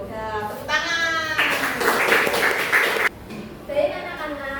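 A second-grade class applauds in a short, dense burst of clapping lasting under two seconds, set between stretches of a voice talking.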